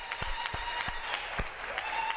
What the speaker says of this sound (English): I want us to give a round of applause to the Directorate Language Services.